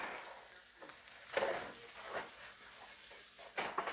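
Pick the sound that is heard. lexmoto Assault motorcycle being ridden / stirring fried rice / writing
stirring fried rice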